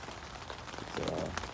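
Rain falls on a Luxe Twinpeak tent, a soft, steady patter of drops on the fabric, faint and close, with no voices.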